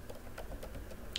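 Keys on a computer keyboard tap quickly in a brisk, even rhythm, close and fairly quiet, with no voices.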